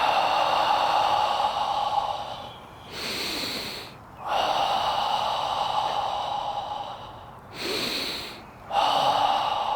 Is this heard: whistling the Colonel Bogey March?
no